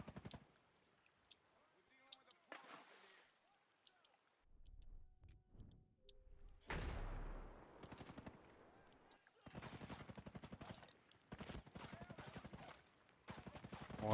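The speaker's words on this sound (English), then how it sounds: "Probably because I'm being fired at." Bursts of automatic and single-shot gunfire in the video game Ghost Recon Breakpoint, with sharp clicks and rattling volleys separated by quieter stretches and a low rumble in between.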